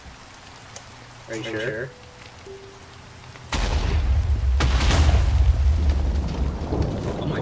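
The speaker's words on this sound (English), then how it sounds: "the rain is real hard" Hard rain pours down loud and steady from midway on, a broadband wash with a sharp crack or two in it, following quieter ambience where a person briefly speaks.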